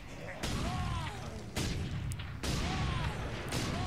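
Warhammer 40,000: Space Marine game gunfire booms in heavy discharges, each blast swelling and ringing out, spaced a second or so apart over a rumbling backdrop.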